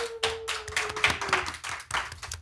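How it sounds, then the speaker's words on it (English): Audience clapping after a book talk: a short burst of scattered, close hand claps with uneven rhythm, a faint tone sounding underneath in the first half. "A huge round of applause."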